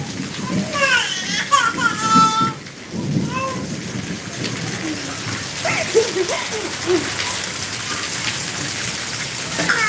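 Steady monsoon rain with hail falls throughout, with a low rumble and children's voices and talk in the first few seconds, then a continuous wet patter with faint distant calls.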